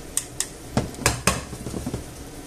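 Chicken livers turned over in a cooking pan with a utensil, a few sharp metallic clinks and scrapes up close, followed by softer shuffling contact, no talking.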